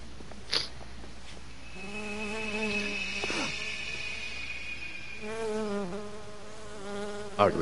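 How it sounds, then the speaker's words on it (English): A bee from the video game Dead Rising buzzes in a steady, droning hum with a wavering pitch that fades in and out, heard alone without talk. "Ugly looking bee."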